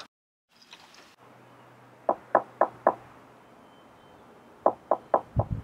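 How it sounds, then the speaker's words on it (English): Knocking on a door: two separate sets of four sharp raps, each set quick and evenly spaced, in a quiet indoor space with a low hum. "Knock a bit harder, Mark."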